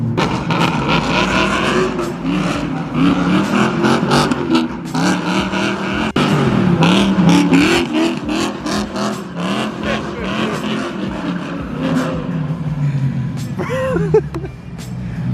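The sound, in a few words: BMW M3 engine revving while drifting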